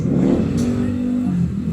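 A Honda TMX 155 motorcycle engine revs steadily up close at a market, a loud sustained mid-pitched drone with a slight rise and fall and no voices over it.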